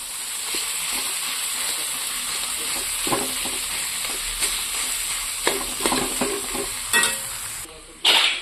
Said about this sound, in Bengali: কড়ার মধ্যেই আমি মাখিয়ে নেবো সুন্দর করে